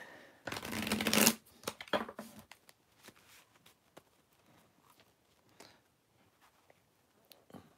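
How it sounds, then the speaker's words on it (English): A deck of reading cards is shuffled close up, one long riffle burst followed by a few shorter flicks and soft card taps that trail off into quiet handling. "I know I'm probably going slow, but I just like to get a good shuffle between readings."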